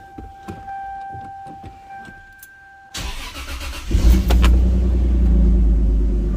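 A Toyota Supra in mint, original condition starts up after a few faint clicks, then settles into a loud, steady, smooth idle close by.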